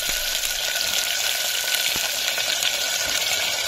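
Large cut garlic, onion and tomato fry in a pan with a constant bright sizzle, close and fairly loud, marked by a faint spoon tap now and then.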